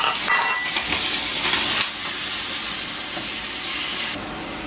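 Ground meat hitting a hot pan in a home kitchen, crackling in a loud, dense sizzle that drops to a steadier hiss as it settles.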